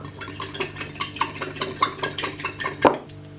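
Egg yolks being beaten with a fork in a bowl: rapid, steady clinking and scraping strokes, close and fairly loud, ending with a sharper knock.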